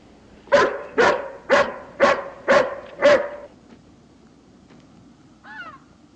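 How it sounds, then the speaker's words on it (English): A hound barks six times in an even rhythm, loud and close, then falls quiet, with a short whine or yelp near the end. "Can't you temper this hound some?"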